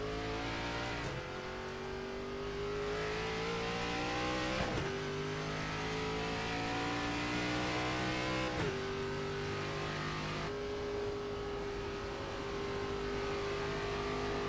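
NASCAR ARCA race car engines in the iRacing video game at Rockingham Speedway drone steadily, with pitch climbing through gear changes and several sharp shifts, loud and continuous with no talking.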